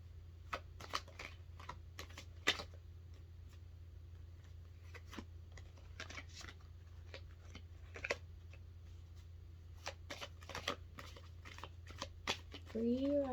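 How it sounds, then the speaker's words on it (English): A tarot deck being shuffled by hand, with soft irregular card riffles and taps repeating over a steady low hum, close and fairly quiet, no talking. "I'm going to shuffle quite a good minute out"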